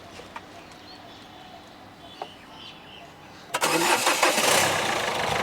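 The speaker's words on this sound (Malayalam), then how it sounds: "എല്ലാ വണ്ടി ജസ്റ്റ് ഒന്ന് സ്റ്റാർട്ട് ചെയ്യുന്നുണ്ട്" A 2015 Renault Duster diesel with 85 PS is started: quiet outdoor ambience with faint clicks, then the engine cranks and catches abruptly, settling into a loud, rough idle.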